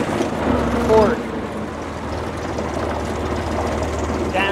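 Diesel engine of an original 1992 Case IH 495 farm utility tractor runs steadily at a low, constant rumble with a brief squeal near the start, up close and loud.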